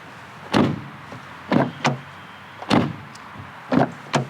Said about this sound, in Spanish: el sonido de cierre de la puerta